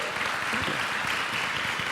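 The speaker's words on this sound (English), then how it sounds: "Give him a big round of applause." A church congregation applauds in a dense, even burst of clapping that fills the room at a steady level throughout, with no talk over it.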